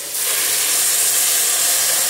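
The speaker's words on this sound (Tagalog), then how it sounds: "Pagkatapos, lagay na natin yung sabaw." Broth poured into a hot pan of mung beans with tuna, a sudden loud, steady hissing sizzle of steam that starts abruptly and holds evenly throughout.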